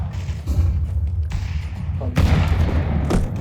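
Grenade explosion in a tactical shooter video game, with a couple of deep booming thuds and rumbling blasts rolling over steady low background noise, moderately loud and without voices.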